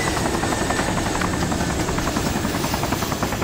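Helicopter in the video game DayZ, a loud, steady rotor thrum with rapid blade chop, close and unbroken throughout.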